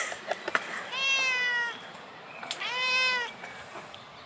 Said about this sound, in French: Et le petit Ramon qui continue à miauler, mais à miauler.